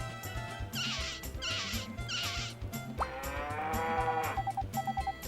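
A cow moos as it is milked in the video game Harvest Moon 64, a synthesized low moo rising and falling over cheerful looping farm background music, followed by short chiming tones.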